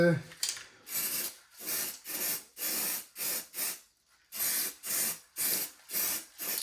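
Filler primer sprayed in bursts into holes in wood during home furniture work: about a dozen short hissing sprays with brief pauses between them, close and fairly quiet, no talking.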